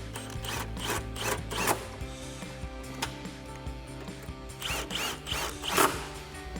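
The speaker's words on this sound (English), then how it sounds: "And then we'll go ahead and tighten them up with our 16mm socket." A ratchet with a 16mm socket tightens upper shock mount bolts on a 2011-2023 Dodge Challenger rear Bilstein B6 shock, clicking in quick rapid runs of pawl ticks with short pauses, fairly quiet and close.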